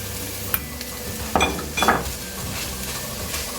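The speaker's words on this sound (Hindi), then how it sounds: "तो अब हम डालेंगे 1 कप ऑफ ओनियन।" Sliced onion hits a hot pan for veg hakka noodles, a steady sizzle with a few sharp metallic scrapes and clinks as it is stirred close up.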